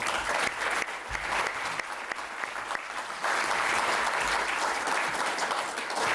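Sustained audience applause fills a parliamentary conference hall, dense and steady throughout with a brief dip midway before swelling again, no speech over it.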